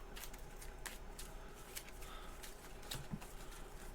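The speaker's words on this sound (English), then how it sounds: "I'm shuffling here to see what kind of garbage I draw" A deck of Marvel Champions cards is shuffled close up in quiet, repeated riffling bursts with a few sharper card snaps spaced through the stretch.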